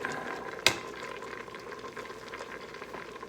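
Beef for stew browning in a hot pan on high heat, a soft bubbling sizzle close by with one sharp clank of the utensil early on, then quieter frying, with no talking.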